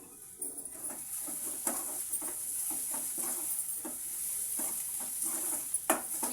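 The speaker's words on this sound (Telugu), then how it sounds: "ఉల్లిపాయలు అయితే బాగా ఫ్రై అయిపోయినాయండి కారం కూడా వేసిన తర్వాత వేగించుకోవాలి" Sliced onions frying with chili powder in a pan as they are stirred, giving a steady soft sizzle broken by scraping and tapping stir strokes at close range.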